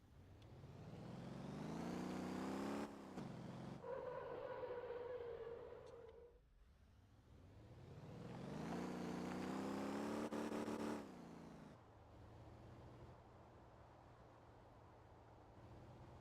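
A pickup truck driven in the video game MotorTown, its engine climbing through the gears in rising whines, shifting and settling, then revving up again before easing to a lower steady hum.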